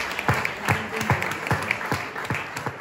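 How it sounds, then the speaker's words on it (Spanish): Sparse, rhythmic clapping rises from the audience at a Barcelona board-game festival gala, a few distinct claps spaced evenly over a soft room background. "un aplauso muy fuerte para ese pocket"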